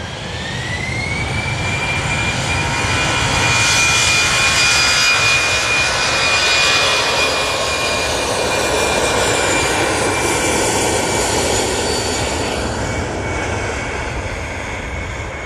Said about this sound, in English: And apparently the Etihad is on the move.